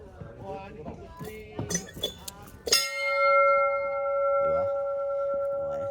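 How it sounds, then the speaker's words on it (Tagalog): The Bell of Happiness on Mount Moiwa rings out in one loud metallic strike that hangs in a long, slowly fading tone, after a stretch of clinking and brief voices. "ang pinaka-famous at dinarayong Bell of Happiness dito sa Mount Moiwa. Siyempre kailangan makikalembang din tayo."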